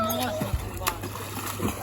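Someone jumps into cold sea water at a beach, making a short, sharp splash amid lapping water, with people talking nearby.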